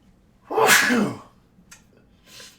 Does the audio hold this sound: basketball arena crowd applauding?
no